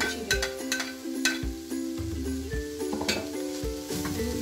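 Chopped vegetables with chillies, spring onion and coriander stir-frying in a pan, a steady sizzle broken by repeated scraping and clattering stirring strokes, close and fairly loud with no talking.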